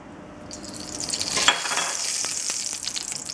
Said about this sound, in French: Les mini poivrons bien saisis.